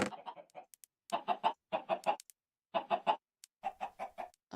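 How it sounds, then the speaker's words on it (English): Minecraft chickens cluck in quick clusters of three or four short, bright calls, separated by brief pauses. The clucks are fairly close and clear, with no speech over them. "I've got to kill these chickens."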